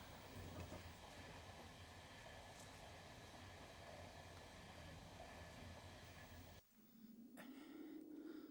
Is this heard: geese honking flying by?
no